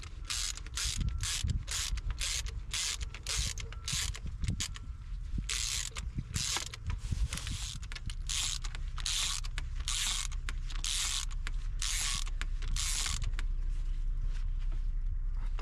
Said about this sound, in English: As usual, I take a wrench and a spark plug socket and start tightening.